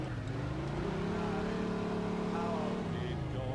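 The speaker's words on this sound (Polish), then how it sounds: "Właśnie jedziemy tym fajnym samochodem, który nie ma maski, no bo jest szybki" A fast car with no hood driving in the video game Mafia 2, its engine humming steadily with a rising and falling pitch, loud and close throughout.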